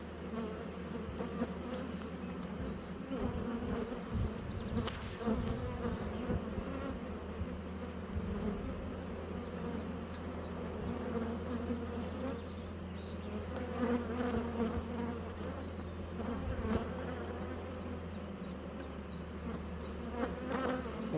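Honey bees buzz steadily at an open hive frame of capped brood during an early-April nectar flow, a dense continuous drone close by with no talking.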